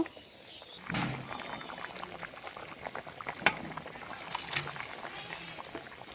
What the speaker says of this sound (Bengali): ভেজে রাখা মাছগুলো দিয়ে দেব।